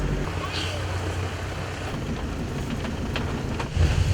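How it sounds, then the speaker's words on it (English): A sudden rainy-season shower near Hua Hin, Thailand, makes a steady, dense hiss of falling rain, with gusts of wind and a low rumble swelling at the very end. "the rain started"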